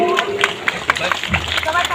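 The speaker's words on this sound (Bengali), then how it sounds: "সবাই একটা জোরে হাততালি দিন" Audience at a festival opening claps and cheers over crowd murmur, with a voice speaking on top of the scattered, uneven claps.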